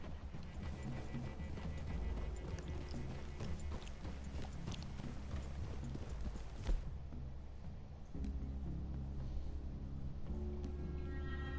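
Steady clip-clop of horse hooves walking, repeating evenly over a constant low rumble of game ambience, with a brief thump partway through.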